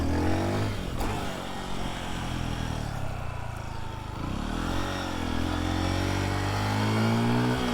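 A motorcycle with only 248 miles on it idles in neutral, a steady low engine rumble that carries on throughout, close and fairly even in level, with no voices over it.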